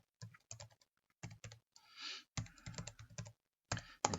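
Bursts of computer keyboard typing at close range, clustered key clicks separated by short pauses, with a brief softer rustle in the middle and no talking.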